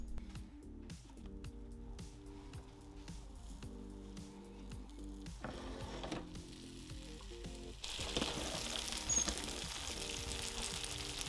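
A chicken quesadilla sizzles and crackles steadily inside an older Breville press, close and continuous, with faint clicks and scraping near the start and the frying hiss swelling louder toward the end.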